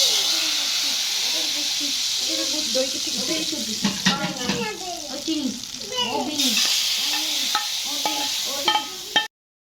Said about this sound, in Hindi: तड़का डाल लेते हैं।